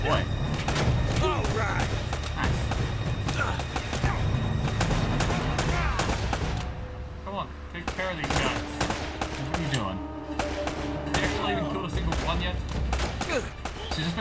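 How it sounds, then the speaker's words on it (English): Repeated gunfire in the video game Uncharted as a corpse is shot over and over, dense rapid bursts and thuds running nearly continuously, with a voice talking over the shooting. "Shooting the same corpse, like over and over and over and over"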